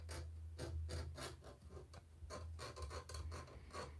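Fine layer lines on a 3D printed castle floor support being rubbed, giving a series of short raspy scratching strokes at a steady rhythm, close and fairly quiet, with no talking.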